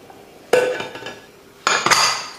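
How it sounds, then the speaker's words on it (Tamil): A metal pressure cooker lid is set in place over tomato rice on a home stove, with two bright metallic clanks about a second apart. "குக்கர் மூடி போட்டுடலாம்."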